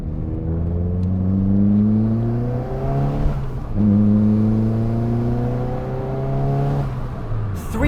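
A turbocharged Nissan Pulsar GTi-R engine pulls hard through the gears from inside the car, rising harmonics climbing, a brief dip at a shift, then climbing again loud and steady, with no voices.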